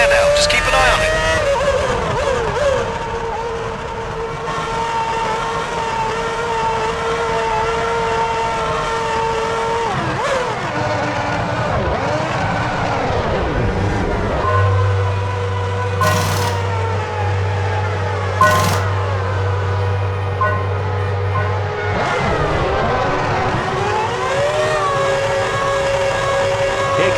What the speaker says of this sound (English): Comes Barrichello, who charges past our commentary box